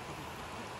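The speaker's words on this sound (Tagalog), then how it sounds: "Agay, kaya pala umalakas ang ulan." Heavy rain pours down outdoors on farmland, a loud, unbroken wash of falling water filling the brief moment with no voices.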